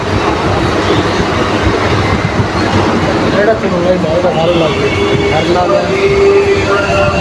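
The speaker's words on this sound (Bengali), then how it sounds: "বিবাদীবাগ থেকে ছেড়ে আমাদের ট্রেন এখন এসে পৌঁছেছে ইডেন গার্ডেন প্ল্যাটফর্মে।" Kolkata local train pulling away from the Eden Gardens platform, a steady loud rumble of wheels and carriages with faint clacking and a brief squeal, with voices talking over it throughout.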